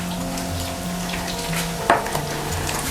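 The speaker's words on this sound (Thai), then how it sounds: "แล้วให้เราคนส่วนผสมทุกอย่างให้เข้ากันเลยค่ะ" Chili paste mixed with tamarind juice for a Thai shrimp-paste nam prik is stirred in a bowl, with soft wet scraping and a single sharp clink of the utensil against the dish partway through.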